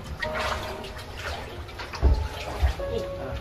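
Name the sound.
river water flowing after typhoon flooding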